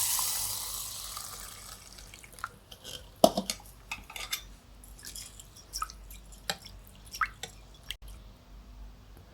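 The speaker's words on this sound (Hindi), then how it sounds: "दाल को हम एक बर्तन में डाल लेंगे एक साथ ही और इसमें खुला पानी डाल देंगे" Water poured over urad and moong lentils in a pot for soaking: a broad wet rush at first, then scattered close drips and small splashes with no voices.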